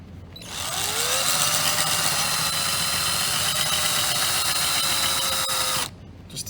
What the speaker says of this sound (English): So what we're going to do is we're going to drill this out right here.